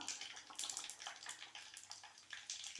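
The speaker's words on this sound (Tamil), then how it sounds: "கொதிக்குது இப்போ நம்ம புளி தண்ணி ஊற்றிக்கலாம்" Tamarind water poured into boiling sambar in a cooking pot, a faint continuous splashing pour with bubbling underneath, rising and falling in short surges.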